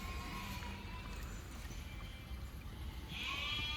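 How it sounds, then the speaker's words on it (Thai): A female sheep on a farm bleats once, a short nasal cry toward the end, faint against a steady low background hum with no clear talk. "นี่คือแกะตัวเมียครับ"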